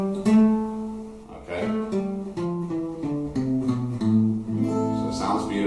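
A natural minor scale in A, played note by note on a melodic instrument, steps moving up then down at a steady pace, close and clear, with a brief spoken word partway through.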